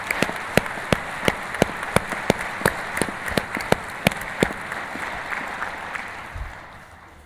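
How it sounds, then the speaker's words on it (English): Sparse, evenly spaced claps ring out in a large hall at a Masonic Grand Lodge of Pennsylvania annual meeting, with a slow rhythmic pattern that thins and fades toward the end. "Please join me with a round of applause for our retiring District Deputy Grand Masters."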